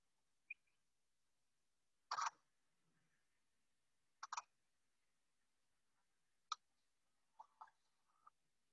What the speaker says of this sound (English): You can hear the cameras clicking and the birds singing.